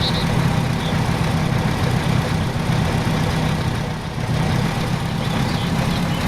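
A rough tractor engine in the video game DayZ Breaking Point runs continuously at a steady rumbling idle, close and loud, with a brief dip in the middle.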